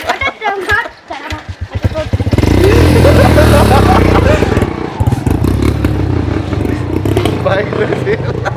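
A scooter or motorbike engine revs up and holds a loud, rough drone close by, starting after a few knocks and clatters, with people talking over it.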